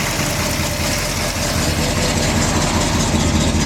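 A 1968 Ford Galaxie XL Fastback engine idles, a loud, steady low rumble with an even rhythmic exhaust pulse, close and continuous with no talking.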